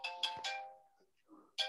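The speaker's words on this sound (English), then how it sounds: "Sorry, my phone is ringing." A mobile phone ringtone plays in short bright tonal bursts, three quick notes, a pause, then another note starting again, fairly close and clear.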